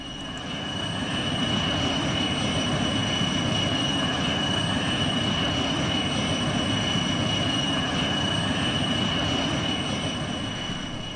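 An aircraft in the Trainz railway simulation game, actually a locomotive adapted to fly on invisible tracks, drones in a steady, continuous engine roar with a constant tonal hum throughout.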